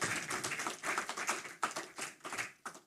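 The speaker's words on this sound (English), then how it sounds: "Let us give him a round of applause for being elected" Applause rises for Chet Green at the opening ceremony of the 29th COFCOR, a meeting of government officials: a spread of close, irregular claps in a hall that keep going for about three seconds, with no voices over them.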